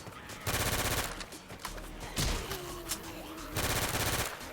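Bursts of automatic gunfire rattle in a PC shooter game, three loud clusters separated by quieter gaps with scattered single shots and faint game sounds between.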